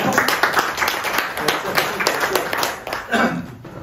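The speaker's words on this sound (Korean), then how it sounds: "그런 의미에서 다 같이 박수 한번 치고" Group of union members at a training session in Haenam clapping hands together, a dense steady patter of many claps lasting several seconds with voices mixed in.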